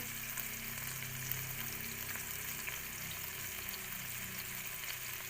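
Bacon frying in a pan for a scrambled-egg breakfast gives a faint, steady crackling sizzle with no pause.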